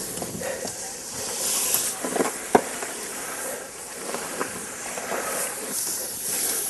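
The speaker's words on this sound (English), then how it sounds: "As you can see by the water boiling, as soon as it hits the tyre, it's still red hot." Water is poured onto a red-hot iron cartwheel tyre to shrink it into place, producing a sustained broad hiss and sizzle with bursts of steam flaring up, close by, with faint knocks and movement around it.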